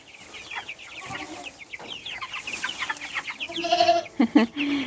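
A goat bleats in short wavering calls near the end, amid a busy chorus of chickens clucking and chirping close by.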